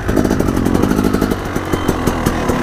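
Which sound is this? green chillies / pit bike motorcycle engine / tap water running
pit bike motorcycle engine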